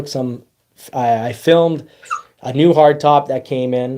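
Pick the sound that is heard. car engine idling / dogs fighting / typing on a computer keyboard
dogs fighting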